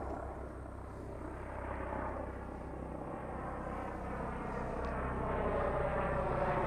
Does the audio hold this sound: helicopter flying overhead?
yes